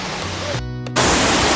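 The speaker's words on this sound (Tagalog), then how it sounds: "Ito na yung falls dito." A large, tall waterfall roars with a broad, steady rush of falling water, loud and close, broken briefly by a tonal hum before the full roar returns.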